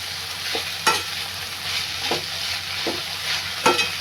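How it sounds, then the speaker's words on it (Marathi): Wild leafy greens stir-fry in a pan with a steady close sizzle, broken by a few sharp scrapes of the spatula at irregular intervals, with no talking. "व्यवस्थित मी परतून घेतले ना"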